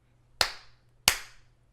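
Two crisp, sharp hand claps about two-thirds of a second apart, close and clear in a quiet room, each with a short ringing tail.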